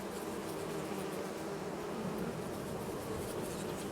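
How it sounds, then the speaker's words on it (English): Beehives in the Farming Simulator 22 video game give off a soft, steady insect buzz, quiet and continuous throughout with no talking. "I've got 3 fairly old beehives. See them all? They're all busy working at the minute."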